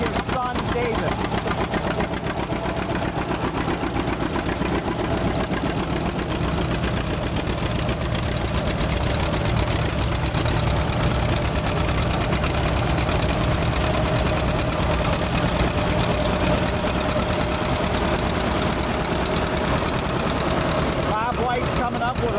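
A 1959 John Deere 730 diesel tractor runs steadily at an antique tractor and plow event in Elburn, Illinois, its low continuous engine drone loud and unbroken, with voices talking over it.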